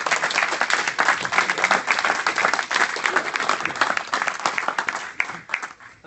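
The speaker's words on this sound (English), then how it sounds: "So give him a big northeast round of applause." An audience welcomes speaker Kev Riley onto the stage with a sustained round of loud applause. The clapping stays dense for about five seconds, then thins out and fades.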